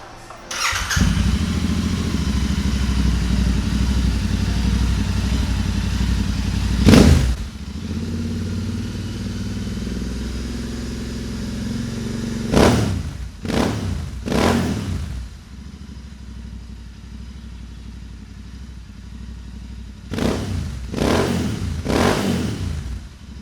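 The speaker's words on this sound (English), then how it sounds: "here is an Interceptor 650 with Moto Wings exhaust." A Royal Enfield Interceptor 650 with a Moto Wings open-pipe exhaust starts and idles with a loud, deep, throbbing rumble, then gives several sharp revs separated by quieter idling, all close and with no talk.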